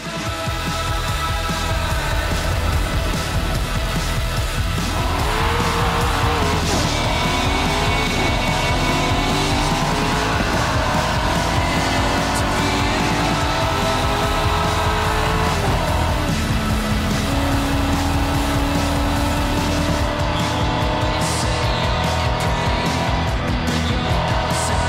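Race cars roar through a Forza Horizon 5 event on the Emerald Circuit, with engine revs climbing and shifting continuously and tires squealing in repeated skids, loud and close throughout, with a faint voice at moments.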